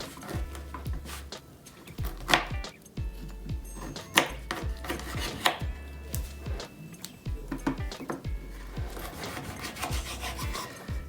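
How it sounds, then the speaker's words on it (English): A knife slices through a lime on a cutting board for a cocktail garnish, with a series of soft, evenly spaced cuts and board taps, close and fairly quiet. "I'm gonna cut this lime"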